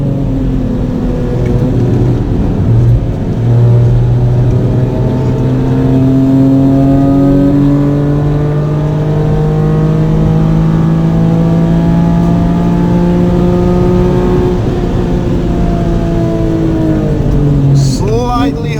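A Mitsubishi FTO Version R racing hard on a circuit, its engine loud and close as it climbs and falls through the revs with gear changes, under steady talk in the cabin.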